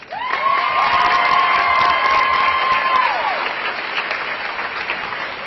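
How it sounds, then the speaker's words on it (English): A crowd claps and cheers at the South High Marathon Dance kickoff, loud and sustained, with a held musical tone over the first few seconds before the applause carries on slightly softer. "Round of applause."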